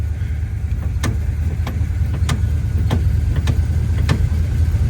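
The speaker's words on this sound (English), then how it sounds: "See how the idle went up?" Steady, close engine idle from a 1972 Chevrolet Nova, a continuous low rumble holding even throughout, with a few sharp faint clicks or ticks recurring about once a second over it; no talking.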